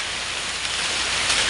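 Rain falls steadily on a farm in a dense, even hiss close by, with no breaks or voices over its brief run.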